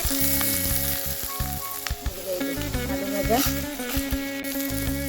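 Vegetables with potato frying in a pan, giving a loud steady sizzle with stirring scrapes and clatter and a faint tonal hum in the background.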